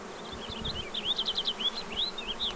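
Honeybees buzz around a nucleus hive during a swarm install, a quiet, close drone with several wavering individual wingbeat whines passing in short bursts.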